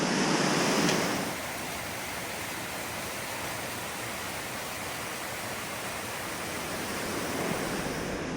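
River water rushing steadily at a hiking water crossing in the North Cascades, a broad continuous roar held near the microphone, a little louder in the first second and steady after.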